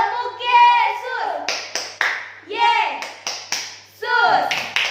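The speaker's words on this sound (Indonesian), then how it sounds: "Kita tepuk Yesus sama-sama ya." Children at a Sunday school service chant a clapping yell together, sharp hand claps landing in short rhythmic bursts between their sung phrases, close and lively.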